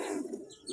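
Caged pigeons coo softly in a bird-selling setting, one faint, brief murmuring call with no talk.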